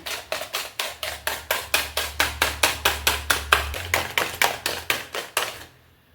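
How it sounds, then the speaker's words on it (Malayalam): A spoon beats egg into butter cake batter in a bowl, giving steady quick taps and slaps at close range, about three per second, with a faint low hum underneath for part of the time before the beating stops. "ഇനി അടുത്ത മുട്ട നമുക്ക് ചേർത്ത് കൊടുക്കാം ഇത് നന്നായിട്ട് മിക്സ് ചെയ്ത് കൊടുക്കാം"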